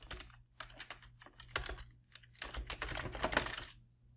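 Quick, uneven clatter of keys being typed on a computer keyboard, close and fairly quiet, with short pauses between bursts of keystrokes.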